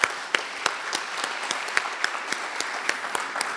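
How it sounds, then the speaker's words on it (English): Audience applause at a graduation ceremony for a leadership development program: steady, moderately loud clapping with several sharp, distinct claps standing out at irregular intervals over about three and a half seconds, with no talk. "give a round of applause to the people who came here to support you today"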